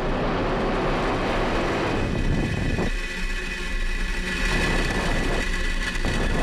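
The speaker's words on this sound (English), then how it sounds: "engines full power, and liftoff of Starlink" A SpaceX Falcon 9 rocket lifting off with a Starlink payload, engines at full power, making a loud, continuous broadband roar with rough crackling texture and no speech over it.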